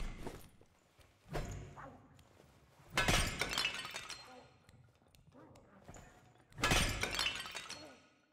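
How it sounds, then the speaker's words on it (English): Vases shattering in a fantasy video game, with several loud crashing breaks spaced a few seconds apart, each trailing off into scattered debris, with softer clatter between them. "Somebody is shattering some vases."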